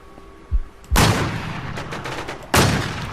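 Gunfire in the survival shooter game Infestation: a soft thud, then two loud, close gunshots about a second and a half apart, each ringing out with a long noisy tail.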